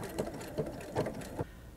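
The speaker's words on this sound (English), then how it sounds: "So I'm going to go ahead and sew this." A sewing machine stitching a seam in fabric for a frog pattern, a soft rhythmic run of needle thumps about every few tenths of a second that stops abruptly, fairly quiet and close.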